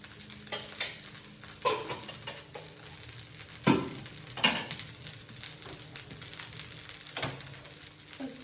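Onion dosa cooking in ghee on a pan gives a soft, steady sizzle, broken by a few louder scraping and stirring clatters of a utensil against the pan, with no talking.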